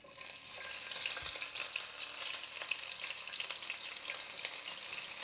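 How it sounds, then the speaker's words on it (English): Onions fry in hot oil for a biryani, a steady, dense crackling sizzle heard up close with small bursts of popping throughout. "Oil is nice and hot. I'm going to add the onions."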